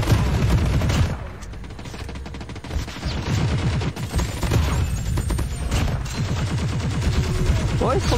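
Rapid bursts of gunfire crackle in a team shooting video game, with repeated volleys close together and players talking over the shots.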